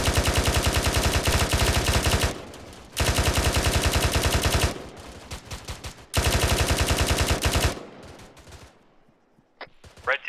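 Sustained automatic small arms fire in the military video game Arma 3, three loud close bursts of rapid shots, each lasting about two seconds, separated by brief pauses with fainter distant shots trailing off at the end.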